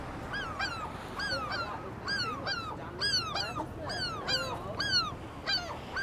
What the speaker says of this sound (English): There's some seagulls over there.